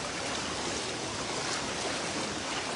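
Floodwater rushes in a strong, steady current through a flooded barangay in Lemery, Batangas during Typhoon Christine, a continuous broadband roar filling the whole stretch with no voices.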